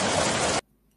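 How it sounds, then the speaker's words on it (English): Rain falling, a dense steady hiss of drops that runs for a moment at moderate loudness and then cuts off abruptly into silence. "Rain, right?"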